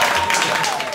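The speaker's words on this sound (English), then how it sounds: "Guys, we have a big round of applause, please, for Neb." Brief burst of podcast audience applause for a departing guest, loud and dense, a continuous clatter of many hands lasting about a second.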